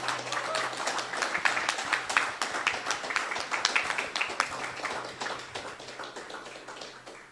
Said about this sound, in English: please give a big round of applause to our chapter director